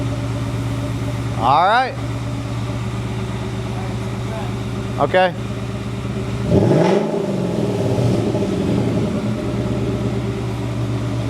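A classic car fitted with a new classic muffler starts up, settling into a steady low idle with a sharp rev midway, while people talk briefly nearby.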